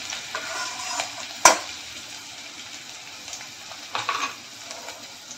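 Ground cumin and spices frying in a pan over low heat, a soft steady sizzle broken by a sharp clink of a spoon on the pan and a few scraping stirs later.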